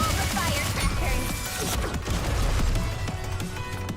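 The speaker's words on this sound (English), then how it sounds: "I'm going to set off all the firecrackers" Firecrackers in the game NIKKE go off in a rapid crackling burst, a dense, loud rattle of pops and bangs over a booming rumble that holds on for several seconds.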